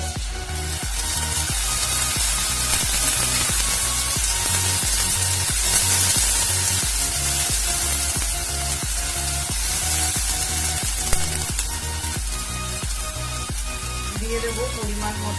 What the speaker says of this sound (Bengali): গোল্ডেন ব্রাউন হয়ে গেছে, এর মধ্যে আমি এবার দিয়ে দেব 1 চামচ আদা আর রসুনের পেস্ট।